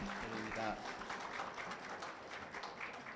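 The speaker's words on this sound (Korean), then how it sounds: "큰 박수 부탁드립니다." Audience applause filling the hall at a Korean American association federation's inaugural ceremony, steady and sustained, with a voice speaking briefly near the start.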